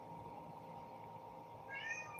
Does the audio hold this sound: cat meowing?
yes